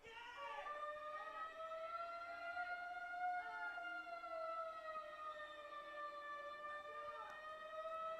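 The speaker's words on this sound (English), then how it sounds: "We are a tad distracted by a loud siren going off. That might be the tornado siren, I think." A loud tornado warning siren wails steadily throughout during a women's soccer match, its rising and falling tones sustained without a break, with faint crowd and commentary beneath.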